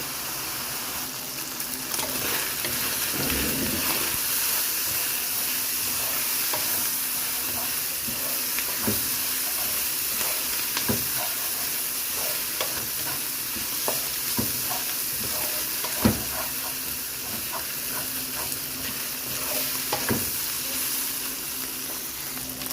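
Chopped onion and garlic sauté in hot oil for a Filipino vegetable dish of alugbati, string beans and eggplant. A steady close sizzle and hiss runs throughout, broken by occasional stirring clinks and scrapes, with no voices.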